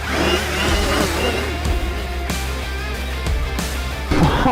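Stark Varg EX electric motorcycle in its 60 hp mode accelerating hard, a loud, continuous high-pitched electric whine with rising tones close by, alongside wind and tyre noise.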